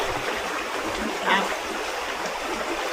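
Water from a natural spring flows under deep tree shade, a steady soft rushing trickle heard close by, with a faint voice briefly in the background.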